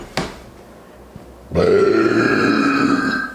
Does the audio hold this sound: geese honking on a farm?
no